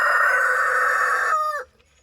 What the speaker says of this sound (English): feeding the chickens the corn in the mornings